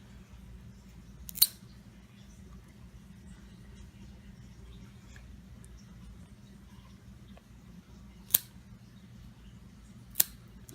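Clippers trimming a cat's nails, three sharp isolated snips spread far apart over a quiet room hum with a faint low drone.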